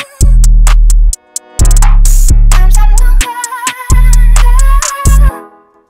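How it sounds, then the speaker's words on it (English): An 808 bass pattern built in FL Studio plays loud and alone: deep sustained sub-bass notes in a stop-start rhythm, with melodic synth layers on top, then a fading tail at the end. "this is the 808 pattern that I came up with"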